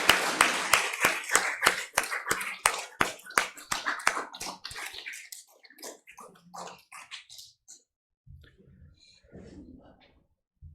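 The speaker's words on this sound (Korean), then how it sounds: "남성교회를 위해서 격려의 박수를 하십시다." A church congregation claps in a brisk, even rhythm that is loud at first, then thins into scattered claps and trails off into near silence with faint low sounds.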